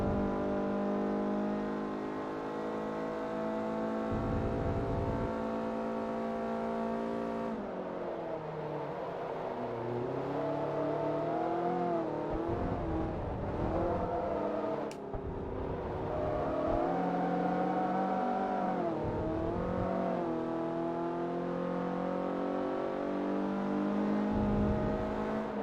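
A race car engine in the Forza Motorsport 3 video game, front-wheel-drive open testing, revs steadily and loudly throughout, with rising and falling pitch as the car shifts and corners, no talking.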